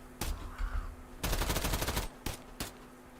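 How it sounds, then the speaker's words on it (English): Bursts of video game gunfire in Escape From Duckov: single sharp shots, then a rapid automatic volley lasting nearly a second, followed by two more separate loud cracks. "Oh, we got gunfire all over the place."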